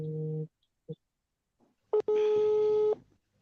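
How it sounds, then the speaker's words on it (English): A telephone sounding in a home setting: a short electronic tone, a brief blip, then a longer steady ringing tone near the end, each clear and close with silence between them. "I think, Linda, your phone is ringing."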